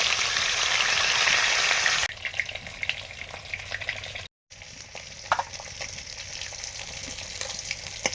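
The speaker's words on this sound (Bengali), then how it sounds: "সবই ভেজে নিচ্ছি একসঙ্গে।" Hilsa fish heads and pieces fry together in a pan, giving a steady, close sizzle with small pops and crackles, interrupted once by a momentary break.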